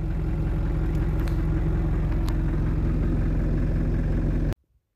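A vehicle's engine drones in a strained, steady low rumble as its wheels spin and slip on a steep slope, loud and close, cutting off sharply after four and a half seconds.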